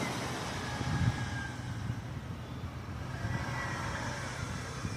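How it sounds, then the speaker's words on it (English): A garbage truck sits idling close by, its engine a steady low rumble held at an even level throughout, with no talk over it. "park his garbage truck and keep it running"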